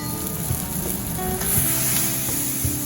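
A burger patty smashed flat on a hot griddle for an egg-in-the-frame brunch burger, sizzling and crackling steadily up close with a few soft scraping taps, no talking.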